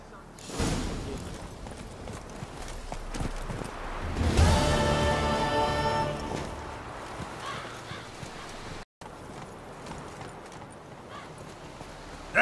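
Horse hooves clip-clop at a steady walking pace in the video game The Witcher 3: Wild Hunt, moderately close, with a brief dropout partway through and some background ambience.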